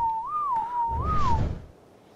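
A single wavering whistle, used as a command in the video game Ark while taming a Giga, rises and falls twice in pitch over about a second and a half, loud and close, with low rumbling game noise underneath before it fades.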